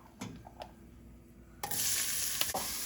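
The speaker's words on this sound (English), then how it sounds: "So my oil and ghee is nice and hot. The spices are now sizzling." Onions are added to spices in hot oil and ghee, and a loud, bright sizzle bursts up after a few quiet stirring clicks and taps, then holds steady and close.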